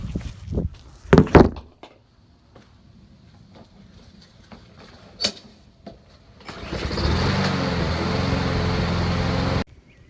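A lawn mower with dirty carburetor and bad gas, refuelled and then started: a few thumps and handling knocks, a pause, then the small engine catches and runs steadily and loudly for about three seconds before cutting off.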